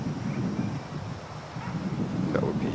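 Wind blowing outdoors at a rocket launch site, a continuous low rumbling buffet against the microphone that holds steady throughout.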